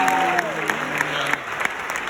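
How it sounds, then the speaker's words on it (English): Applause from an audience at North Carolina A&T greeting a speaker's mother from Tarboro, North Carolina, steady and moderately loud, with faint tonal sounds and some background talk blended in. "Clap for my mother."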